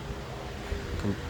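A cheap $130 pressure washer runs with a steady, dense hiss and rumble throughout a short stretch, with a voice faintly mixed in.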